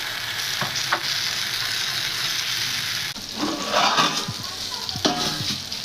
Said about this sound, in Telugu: ఇదిగోండి ఒక పక్క చేపలు కూడా ఫ్రై అవుతూ ఉన్నాయి.